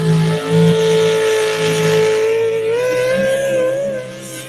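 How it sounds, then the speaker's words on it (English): A big 485 cubic inch Chevrolet engine roars loud and close as it pulls down a tractor pulling track, holding a steady high-revving tone that climbs slightly late in the run, without talk. "All the track jumped up and grabbed a hold of that big Chevrolet right there."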